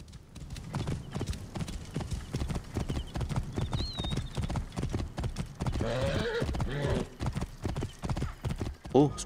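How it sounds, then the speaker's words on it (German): Rapid hoofbeats of a horse galloping in the video game Assassin's Creed Origins, a steady close clip-clop with a whinny partway through, while someone talks over it. "Renn, mein Pferdchen."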